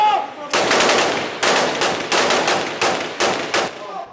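Heavy automatic gunfire during the rescue of wounded fighters in an Aleppo street battle, loud and close, coming in about six rhythmic bursts separated by short pauses.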